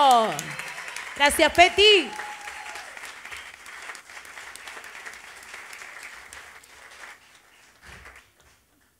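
Concert audience applauds the bass player at a show, a moderate crowd clapping under a host's amplified voice and some stage tones, the clapping thinning out and fading toward the end.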